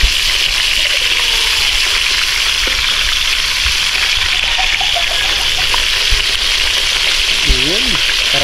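Freshly caught fish frying in hot oil, a loud continuous close-up sizzle and crackle with occasional stirring clatter, and a voice briefly heard.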